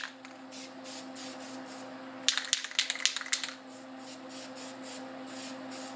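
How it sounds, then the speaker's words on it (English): A series of short spray bursts, several quick hissing puffs in a cluster, with quieter rhythmic spritzes before and after. "now I can just set it on something and just take my spray paint"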